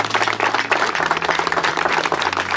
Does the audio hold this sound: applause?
yes